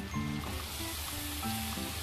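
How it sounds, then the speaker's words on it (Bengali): Marinated fish frying in a spice paste of chili powder and salt in a pan over medium heat, giving a steady close sizzle with faint stirring or scraping. "এ পর্যায়ে মেখে রাখা মাছগুলো দিয়ে দিচ্ছি।"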